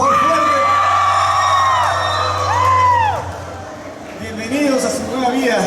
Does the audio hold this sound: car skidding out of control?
no